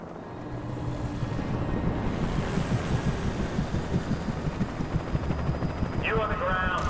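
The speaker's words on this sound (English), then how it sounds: "They still got helicopters." Helicopter in the video game Alan Wake, a steady rotor throb with rhythmic thudding pulses hovering nearby, holding level throughout with a brief higher whine near the end.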